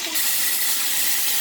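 Water poured into a hot frying pan where rib meat has been searing bursts into a loud, close, continuous steam hiss that carries for the whole moment.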